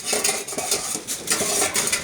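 A metal dog food bowl clinks and scrapes as it's handled, with repeated bright rattles and taps up close.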